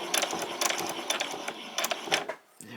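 Sewing machine stitching to the end of a seam on a white summer top, then back-stitching and a few forward stitches: a close, busy, rapid mechanical patter that stops briefly near the end before restarting.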